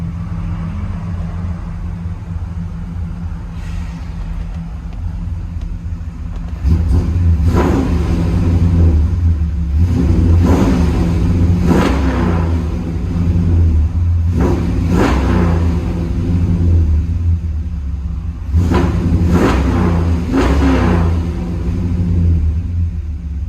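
Cabin sound of a 1966 Chevy Impala with a cammed 350 V8 and Borla Pro-XS true dual exhaust: a deep lumpy idle rumble, then a series of sharp revving blips that rise and fall, loud and close.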